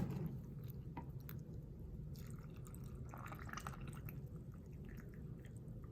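Brine is poured into jars over sliced jalapeños for fermenting, giving quiet liquid splashes and drips with small wet squishes, soft and close over a low background hum.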